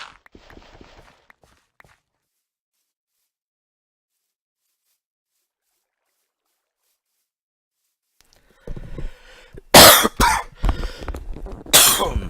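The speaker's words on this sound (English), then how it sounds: "then I cough in your ear" A person coughs close into a microphone: a few harsh, loud coughs near the end of the clip after a long silence, with a brief faint rustle at the start.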